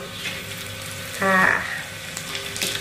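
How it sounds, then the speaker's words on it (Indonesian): Two pieces of salted mujair fish fry in oil with a continuous crackling sizzle. A brief whirring mechanical rattle swells midway and a light clink comes near the end, close by. "Tidak nggak banyak-banyak goreng ikan asinnya, cukup 2 saja"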